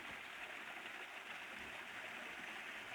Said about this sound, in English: We just come across this waterfall